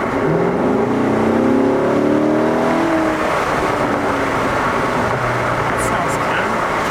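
Engine of a 2019 Corvette C7 Grand Sport in track mode, a steady loud drone with a rising rev that falls away, heard from inside the cabin with heavy road noise and talk over it.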